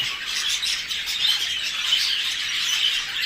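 Breeding pairs of pet birds in an indoor breeding room fill the air with a dense, continuous chorus of high chirps and tweets, steady and fairly loud throughout with no talking.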